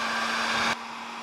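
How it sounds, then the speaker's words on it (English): A heat gun blows over 3D-printed ABS plastic to smooth away scarring: a steady, close airy roar that drops abruptly to a softer hiss partway through. "that will go away with the heat gun, which I will do next"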